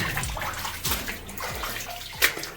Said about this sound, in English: drips coming down from the ceiling here